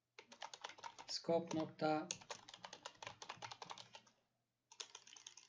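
Computer keyboard typing while writing AngularJS service code, a steady run of quick clicks with a voice talking over much of it.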